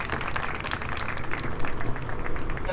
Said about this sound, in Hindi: आइए अब इनके लिए जोरदार तालियां हो जाएं।